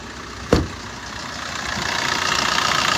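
A 2017 Maruti Suzuki Brezza VDI diesel engine idles steadily after a sharp click, its low continuous rumble holding even and slightly building over the seconds, with no talking.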